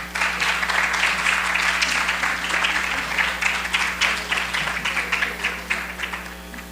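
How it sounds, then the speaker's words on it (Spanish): Applause for a congresswoman at an awards presentation, a steady crowd of clapping hands that holds for several seconds and gradually thins toward the end, heard over a faint steady hum. "Bueno, vamos a darle un aplauso a la diputada, por favor."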